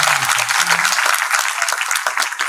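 A theatre audience at a stage play claps in a dense, continuous burst, loud and close, with a brief voice at the start.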